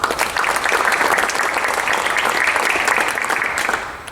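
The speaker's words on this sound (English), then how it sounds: "So can we give them a clap, please?" Audience at a basketball coach development clinic claps together, a sustained, even burst of applause from a room of people that tapers off near the end.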